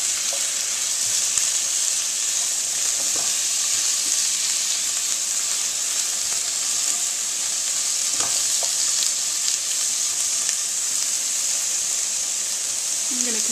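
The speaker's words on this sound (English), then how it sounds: "I'm just trying to be gentle with the tofu, because even though I chose the extra firm tofu, they are still pretty fragile" Extra firm tofu fries and browns in a pan, giving a steady, close sizzle throughout with occasional soft stirring clicks.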